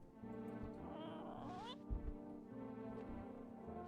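A cat meows in the game No I'm Not a Human, a short mid-pitched cry with a rising sweep over steady tonal background music, near and clear, with no talking.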